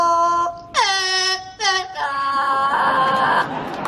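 A trained bird at a safari park whistles a patriotic anthem tune, O Canada, in clear, pure whistled notes with short gaps between phrases, close and fairly loud.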